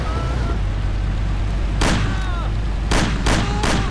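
Gunfire in the video game Mafia: four loud, close gunshots ring out in an irregular burst over constant background rumble and noise.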